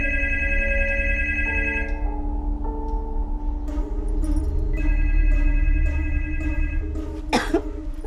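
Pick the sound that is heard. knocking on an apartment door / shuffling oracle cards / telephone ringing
telephone ringing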